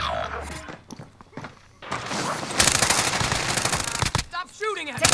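Gunfire in a first-person shooter game: a sustained, loud burst of rapid automatic shots rattling continuously for several seconds, with earlier scattered thumps and brief radio-style chatter around it.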